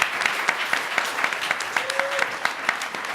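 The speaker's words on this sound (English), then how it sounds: "Let's give them another round of applause." Audience applause for a codeathon team at a CGIU 2018 event, steady claps with a few distinct louder hand strikes standing out, moderately close and filling the full clip without talk.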